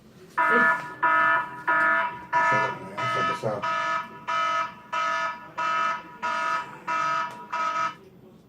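A phone message alert tone set to sound like a fire alarm: about eleven loud, evenly spaced electronic buzzing beeps in a steady rhythm, close by, with faint talk underneath near the start.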